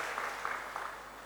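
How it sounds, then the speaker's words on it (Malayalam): Audience at a school summer camp closing ceremony clapping in a brief, fairly soft burst with a few louder pulses. "ആദ്യം ഒന്ന് കൈയടിച്ച് നോക്കട്ടെ, നല്ല സ്ട്രോങ് ആയിട്ട്."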